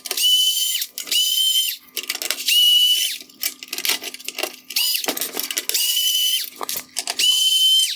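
A power screwdriver running in repeated bursts while backing out T15 Torx screws from the front bezel of a 2012-2016 Audi A6 bi-xenon headlight, a high whirring whine that starts and stops about five times, close and fairly loud.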